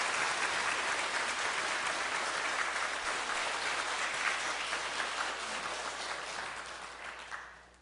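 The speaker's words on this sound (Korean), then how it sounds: "그 마음을 담아서 우리 박수로 우리 목사님 맞이했으면 좋겠습니다." A church congregation claps to welcome an elder pastor to the pulpit at a Sunday service, with sustained, even applause from a large crowd that gradually thins and fades out toward the end.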